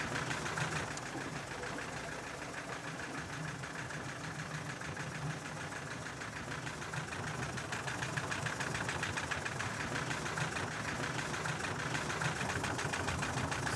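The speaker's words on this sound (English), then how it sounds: "Right now, the pump is running idle, meaning it's only pumping air." An electric pump running idle and drawing in only air gives a steady, loud mechanical hum with a rough vibrating rattle. It holds constant throughout with no talk.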